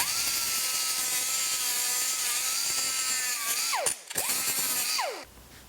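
A die grinder cuts into a plastic car dash HVAC control panel with a steady, close, high-pitched whine, then briefly bogs and dips in pitch before spinning back up and winding down.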